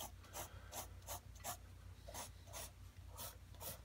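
A 4B pencil on paper with rapid, repeated scratchy strokes in a quick rhythm drawing strands of hair, close and soft, no voices.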